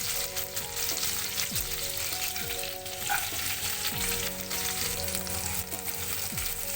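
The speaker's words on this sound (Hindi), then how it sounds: "थोड़ा फ्राई कर लें" Curry leaves and green chillies frying in olive oil, a steady close sizzle with occasional stirring scrapes running throughout.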